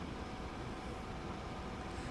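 Train accelerating in Train Sim World 3 on the Northeast Corridor between New York and Trenton: a steady, broadband rolling rumble and hum, continuous and moderately quiet, with no speech.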